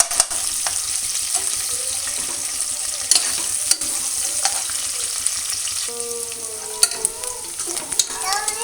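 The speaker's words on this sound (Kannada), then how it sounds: "ಈರುಳ್ಳಿ ಹಾಕ್ಕೊಂಡು ಅದು ಫ್ರೈ ಮಾಡ್ಕೋಬೇಕು. ಸ್ವಲ್ಪ ಗೋಲ್ಡನ್ ಕಲರ್ ಆಗುವವರೆಗೂ" Onions frying in oil in a pan for vegetable pulao, a steady bright sizzle with clattering stirs and scrapes near the end, close and fairly loud, no voices.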